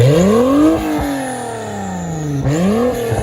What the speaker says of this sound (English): Make sure to adjust your headphone volume for the new NSX V6 sound.